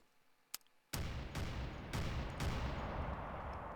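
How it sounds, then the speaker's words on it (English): Oversized 100 caliber explosive machine gun from the Garry's Mod PewPew weapons addon, booming in heavy repeated blasts after one sharp click, each shot a loud crack trailing into rumbling explosions. "Ooh, 100 caliber explosive machine gun."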